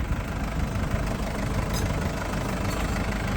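A 2020 Mercedes Sprinter 316 long van's two-litre diesel engine idles nearby, a constant low rumble with a faint knocking texture and no talking.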